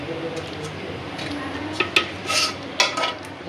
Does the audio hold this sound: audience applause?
no